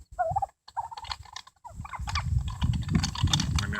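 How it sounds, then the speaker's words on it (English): Several turkeys gobble in a backyard, a close flock calling in repeated bursts, first in short separated calls, then a denser overlapping chorus with scuffling and yard noise underneath. "Got my turkeys out here with me."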